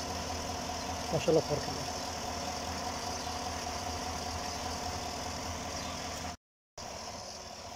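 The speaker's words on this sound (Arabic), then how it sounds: "ما تسمع له بس صوت حركة المحرك. لا لكلكة ولا تكتكة حق ترمبة الباكم." A car engine idles steadily after a vacuum pump delete, a smooth, even hum without ticking, with a brief voice speaking near the start and a short dropout late in the clip.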